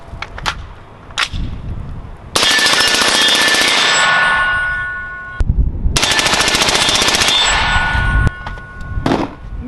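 Rapid semi-automatic rifle fire through an Alamo-15 trigger, two long fast bursts of sharp, loud shots outdoors, with a few single shots and metallic clinks before, between and after.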